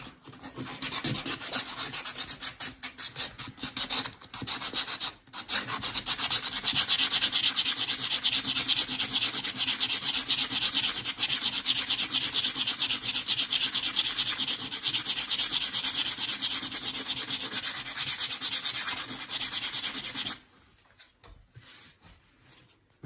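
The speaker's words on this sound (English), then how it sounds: "I'm gonna take the sanding paper." Sandpaper rubs wood repair filler smooth on a wooden staircase with close, continuous back-and-forth rasping strokes for about twenty seconds. A brief pause comes early on, and the sanding stops abruptly near the end.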